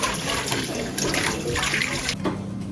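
Running water splashes steadily from a tap as a cooking pot used for kozhukattai is rinsed, with brief knocks and clatters of the pot near the sink; no one speaks.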